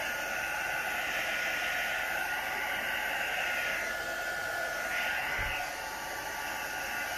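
A hair dryer blows steadily, close and loud, across an alcohol ink painting on canvas coated with polycrylic, a constant rushing hiss with a slight dip in pitch as the airflow shifts.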